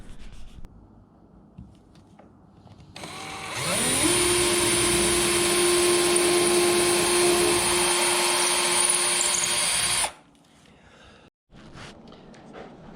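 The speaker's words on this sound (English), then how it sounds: "I'm going to drill down 2 holes in the front and the back that I can just run screws through." Power drill bores holes into a 2x6 wooden board, a steady loud whine running about six seconds after a rising spin-up, then stopping abruptly, with quiet shop ambience around it.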